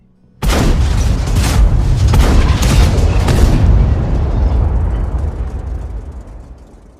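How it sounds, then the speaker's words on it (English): Thunderous explosion booms from ambush vehicles opening fire on Abrams tanks: one sudden loud blast followed by a few rapid repeated booms merging into a long deep rumble that slowly fades away. "The thunderous booms of Woodwatch opening up with their ambush vehicles"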